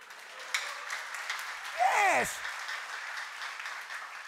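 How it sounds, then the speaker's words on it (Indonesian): Church congregation applauding during a sermon, a broad wash of clapping from a crowd under a steady room murmur, with a brief sliding electronic tone partway through and a short spoken word. "Tepuk tangan."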